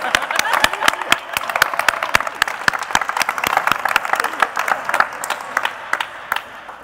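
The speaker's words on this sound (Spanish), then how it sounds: "un aplauso para Rafael Medina por este tercer premio" A crowd applauds the third prize winner, Rafael Medina, at a programming contest award ceremony, with sharp individual claps standing out in a steady, moderately loud round.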